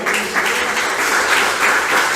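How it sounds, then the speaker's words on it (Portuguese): Church congregation applauding the Lord during a Sunday service, a dense, loud continuous wave of clapping that fills the whole moment without a break. "Você pode aplaudir o Senhor, amém?"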